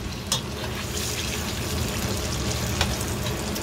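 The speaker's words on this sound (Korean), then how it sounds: "기름에 끓여야지" Curry ingredients fry in hot oil with a steady, dense sizzle that runs throughout, with a couple of brief sharper crackles and no talk over it.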